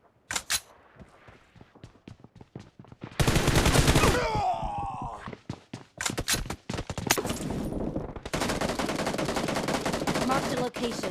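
Gunfire in BGMI team deathmatch after the anniversary update: rapid automatic bursts and single shots, loud and close, with dense sustained firing in several stretches and short pauses between.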